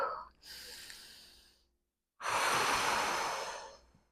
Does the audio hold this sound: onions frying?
no